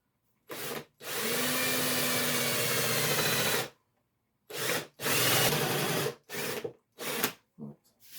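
A 22 mm drill boring into a wooden display sign, heard up close as loud grinding bursts, one long stretch and several shorter ones broken by silences.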